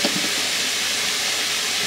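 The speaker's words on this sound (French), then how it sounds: "Je suis en train de faire cuire mes allumettes de bacon" Matchstick-cut bacon strips sizzle in a pan, giving a steady, even hiss throughout with no break in the crackling frying sound.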